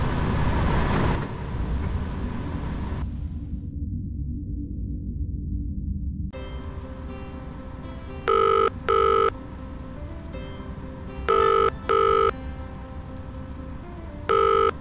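Telephone ringing in the video game Back Seat Tales, three pairs of sharp electronic rings spaced a few seconds apart over a steady car engine hum.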